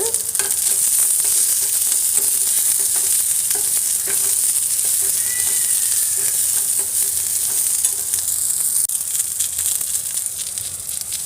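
Peeled garlic cloves frying in a pan for a ridge gourd peel chutney, a loud, constant, dense sizzle with occasional stirring scrapes throughout and no talking.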